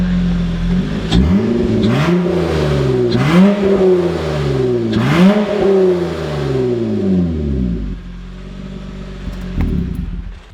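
Honda engine revving hard through a loud, raspy exhaust, rising and falling in three strong pulls before settling to a rough idle, close and alone with no talk.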